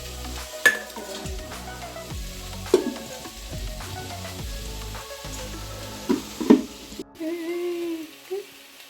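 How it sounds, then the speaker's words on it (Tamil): Crab being sautéed in a pan for a crab gravy, a low continuous sizzle punctuated by sharp scrapes and knocks of a spoon against the pan, then a brief clink as the stirring stops. "இந்த நண்டு பச்சை வாசம் போகிற வரைக்கும் வதக்குறேன்"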